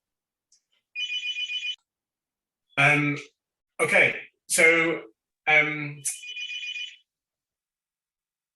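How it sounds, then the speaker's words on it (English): A telephone rings in the background of an online meeting, two bursts of warbling electronic ringing separated by several spoken phrases. "there's a phone ringing in the background"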